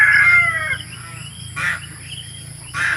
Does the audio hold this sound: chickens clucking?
yes